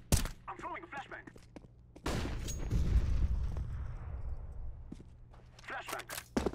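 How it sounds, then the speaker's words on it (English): A flashbang grenade thrown during a competitive CS:GO match on de_mirage lands with a loud, sustained burst and rumble that fades slowly over several seconds, with brief game voice lines before and after. "I'm throwing a flashbang."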